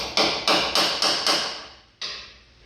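A hammer taps a bolt into a front cab mount on a 1948 Chevy truck cab set onto an S10 frame: five sharp, evenly spaced metallic blows, a short pause, then one final strike, each ringing briefly.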